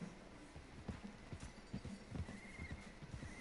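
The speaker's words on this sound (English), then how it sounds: "Looks like it's just a dude and his horse running away on him." Hoofbeats of a horse running in a video game clatter in an irregular clip-clop rhythm, with a brief neigh, fairly close and with no talk over them.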